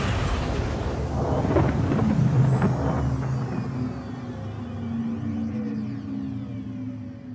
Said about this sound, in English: Quantum drive is now on.